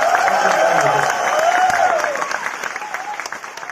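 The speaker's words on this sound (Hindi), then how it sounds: "तालियां बजा दीजिए।" A dense wash of audience applause fills a motivational speech event at IIT Bombay, loud and close at first, then thinning out and tapering off toward the end.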